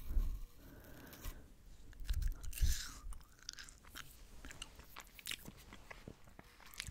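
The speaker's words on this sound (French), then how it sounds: "On fait une trace avant de vraiment croquer." Biting into a soft, mealy apple whose peel slips off, followed by close, quiet chewing and crunching in an intimate ASMR setting, with a few sharper bites early on and softer mouth sounds after.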